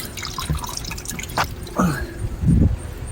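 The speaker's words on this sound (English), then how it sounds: "You gotta drain your coolant." Engine coolant drains from a tab on a 2006 Dodge Charger RT and falls in a few separate drips and splashes, close by, over a steady background hiss.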